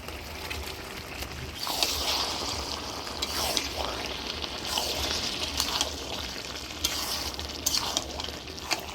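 Fried shol fish and spices being stirred in a pan, with a steady sizzle broken by repeated scraping stirs and occasional clinks, close and moderately loud.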